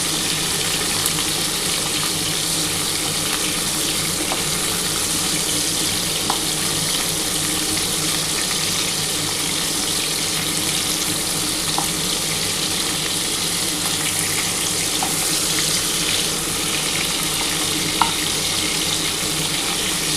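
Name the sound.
prawns frying in a pan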